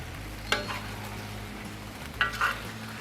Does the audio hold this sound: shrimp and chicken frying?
yes